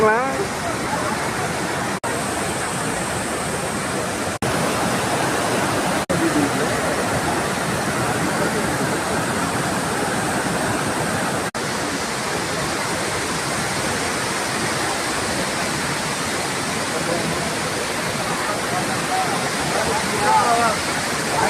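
The Courtallam waterfall pours down with a loud, unbroken roar of rushing water that lasts throughout, and voices are faintly mixed in under it.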